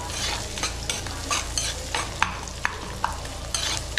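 Onions sauté in a pan for prawn thokku, a dense sizzle broken by several sharp spoon clacks and scraping stirs, close and steady.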